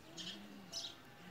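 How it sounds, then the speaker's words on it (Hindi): Soft pigeon chirps come in short bursts, faint and close, on a rooftop over a quiet background hum. "ये हमारी छत का बहादुर कबूतर है"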